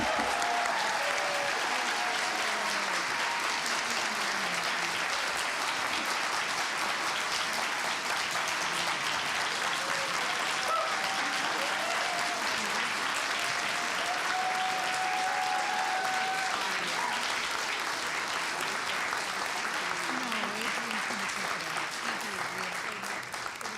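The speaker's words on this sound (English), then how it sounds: "there was just some big claps for our electeds" Steady, loud applause from a large audience at a mayoral election night event, sustained clapping across the whole stretch with faint voices underneath.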